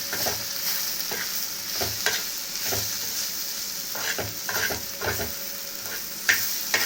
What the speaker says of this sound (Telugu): వేసుకొని ఇది బాగా మీడియంలో పెట్టుకొని మిక్స్ చేసుకుంటున్నాను